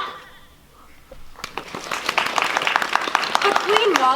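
A high school acting class audience at a ten-minute play festival claps after a quiet pause, scattered hand claps building into steady applause with voices mixed in.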